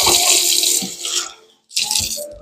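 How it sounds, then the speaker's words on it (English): Plain water poured from a container into a hot pan of onions to steam them, a loud bright splashing hiss that breaks off briefly and then resumes, with no talk. "I'm going to add just a scant bit of just plain water and put the lid on this to steam it."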